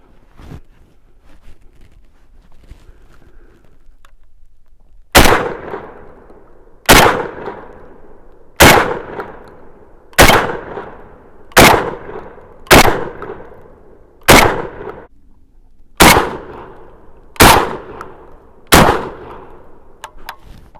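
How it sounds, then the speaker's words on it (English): Panzer Arms BP12 Gen 2 shotgun fired outdoors at a target, ten loud sharp blasts in a steady slow cadence, each trailing off quickly, with no talk. "We're gonna shoot it, that target right there."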